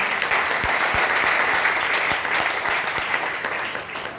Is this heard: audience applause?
yes